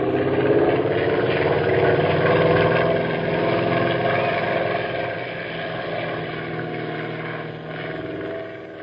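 A small airplane engine drones steadily in a radio drama, a loud continuous hum with no voices, easing slightly in volume partway through.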